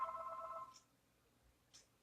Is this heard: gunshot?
no